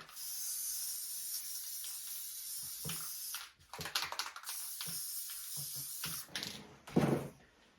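A steady hiss of spray adhesive from an aerosol can, running for about three seconds, then several shorter bursts, close up with no talking.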